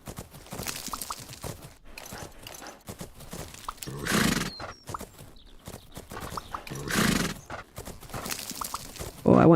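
Hooves thud in a rhythmic canter for a horse in the video game Fernhoof Grove, with repeated clip-clop beats and a couple of louder whinnying swells over quiet game ambience.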